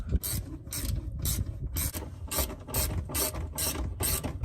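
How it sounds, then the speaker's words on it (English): Ratcheting wrench tightening the fuel tank straps on a 2000 Jeep Cherokee during a fuel pump replacement, a steady series of about nine rapid clicking bursts at an even rhythm, close and fairly loud with no talking. "Thank God for ratcheting wrenches."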